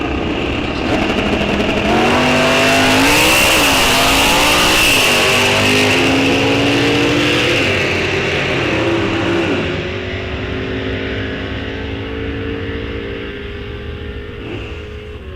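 Drag racing cars launching and accelerating down the track at Rock Falls Raceway, loud roaring engines climbing through rapid gear-change rises, then fading into the distance.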